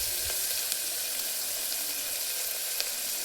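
Onions sizzle steadily in a hot pan for a bottle gourd kurma, a continuous close frying hiss with a few faint stirring clicks and no voices.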